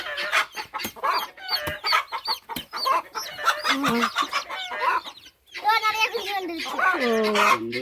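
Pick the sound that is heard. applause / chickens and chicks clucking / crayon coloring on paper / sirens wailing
chickens and chicks clucking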